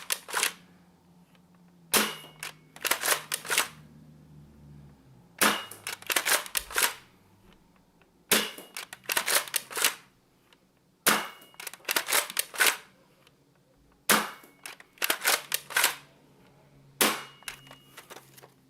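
An Adventure Force Nexus Pro foam dart blaster fires half-length darts in sharp clacking bursts of three or four shots, repeated in groups with short pauses between, close and loud.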